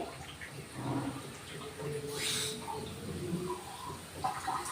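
A short splash of water pours into a pan, with quiet clattering and faint background noise around it.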